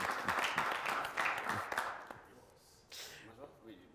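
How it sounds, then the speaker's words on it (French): Studio audience applause on a French-language TV entertainment show, dense clapping at moderate volume that fades after about two seconds, followed by a host speaking over a quieter background. "Je vais demander beaucoup d'applaudissements"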